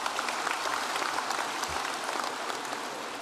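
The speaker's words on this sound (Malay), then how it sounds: "tepukan kurang kuat nampaknya" Steady audience applause fills a hall at a party's annual branch conference, a continuous dense patter of many hands at moderate, even loudness without a break.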